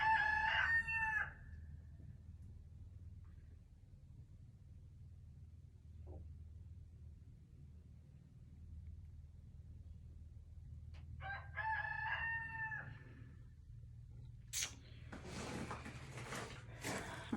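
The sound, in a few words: rooster crowing in greenhouse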